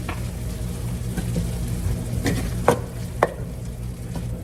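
Drained, rinsed black beans are stirred into ground turkey in a skillet. There is low sizzling under soft scraping, with two sharper clacks of the utensil against the pan and no speech.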